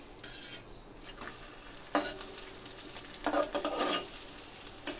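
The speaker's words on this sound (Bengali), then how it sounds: "বাটার দিয়ে আমি একটু ভেজে নিব পাঁপড়গুলোকে" Papad frying in butter in a pan, a soft steady sizzle with bursts of louder crackling and the scrape and clink of a utensil against the pan, fairly quiet, no talking.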